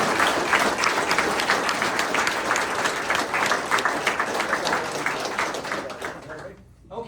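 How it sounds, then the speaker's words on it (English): A crowd at a lodge installation of officers gives a big round of applause, dense continuous clapping close by that tapers off and stops near the end. "A big round of applause for all of them."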